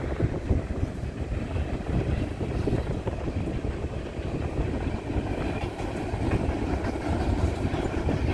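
A Canadian Pacific northbound manifest freight train of boxcars passes in Rantoul, Illinois, a loud, dense, continuous rumble and rattle of wagons rolling close by, with a faint clickety-clack and some wind buffeting, no talking.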